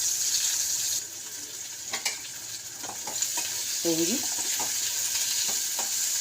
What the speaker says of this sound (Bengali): তো পেঁয়াজটা একটু ভাজা হয়ে যায়।